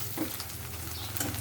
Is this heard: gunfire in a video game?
no